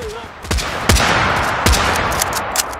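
Wild West guns firing in Totally Accurate Battle Simulator, several loud, sharp gunshots spaced irregularly across a few seconds, each with a brief ringing tail over a steady background.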